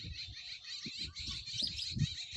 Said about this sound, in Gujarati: આકાશમાં મસ્તીના ચકલા ઉડે છે